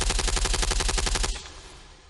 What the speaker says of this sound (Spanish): un soldado del SAS es alcanzado por una potente ráfaga de disparos